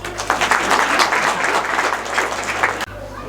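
Clapping from an audience at a spiritual discourse, a dense, lively burst of applause that stops abruptly near the end.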